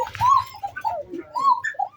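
A pair of red Bashiraj Koka pigeons coo close by in a few soft, rolling phrases that rise and fall, with no one talking.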